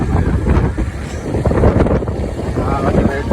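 Strong wind buffets the microphone on an open road near Cabanatuan City, a loud, rough, continuous rumble with gusty swells and no clear talk.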